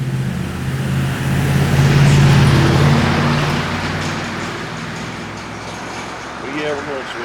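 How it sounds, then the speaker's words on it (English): A vehicle passes on a road beside a house where a mailbox is being installed, its engine and tire noise swelling to a peak and then fading away, with talking in the background. "we're going to wait for this vehicle to get by here"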